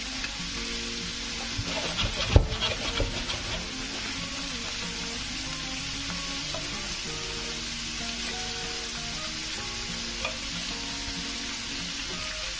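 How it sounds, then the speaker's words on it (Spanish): Garlic and prawns fry in a pan with a dense, steady sizzle and crackle, broken near the start by one sharper knock as they are turned, loud and close throughout. "Y mientras que se cocina el ajo, también vamos a cocinar ya las gambas"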